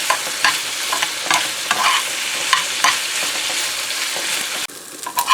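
Steady sizzling of prawns frying in a pan, with repeated scraping and clinking strokes of stirring, close and fairly loud.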